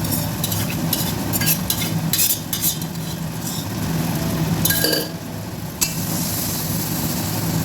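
A spoon stirs and scrapes through dal with tadka in a kadai for egg tadka, a steady sizzle under repeated metal clinks and scrapes at close range, with no talking.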